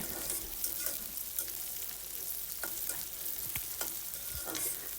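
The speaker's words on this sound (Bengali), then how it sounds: "এই তো পেঁয়াজগুলো আমি ভেজে নিচ্ছি" Onions fry with cumin in a pan, a steady close sizzle marked by repeated scraping clicks of a spoon stirring, with no voices over it.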